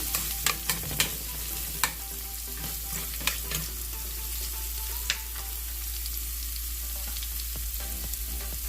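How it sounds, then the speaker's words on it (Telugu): Grated ginger frying in a pan, a steady close sizzle with sharp scraping clicks from stirring, loudest in the first few seconds and continuing alone without talk. "ఈ తురుముకున్న అల్లం వేసుకున్నాం కదా, అది కొద్దిగా వేగాక"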